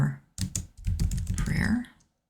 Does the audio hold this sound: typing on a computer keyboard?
yes